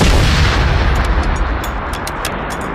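In Generation Zero, a rocket launcher fires at a robot. It opens with a loud, heavy boom that rolls into a sustained rumble, and scattered crackles and debris follow.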